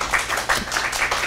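Brief burst of audience clapping at a conference talk, scattered hand claps from a crowd lasting about a second, fairly close, without talk.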